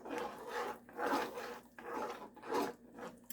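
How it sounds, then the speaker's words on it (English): Milk being stirred into chicken noodle soup in a pot, a rhythmic scraping swirl that repeats about four times in steady strokes, close and fairly quiet. "I'm going to go ahead and stir and make sure all this milk is"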